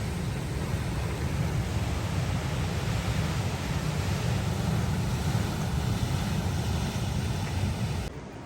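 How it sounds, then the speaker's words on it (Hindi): Large ocean waves off Goa roar and break in a continuous, heavy rumbling wash with wind, loud and unbroken, then cut off abruptly at the end. "इतनी बड़ी बड़ी लहरें उठ रही है"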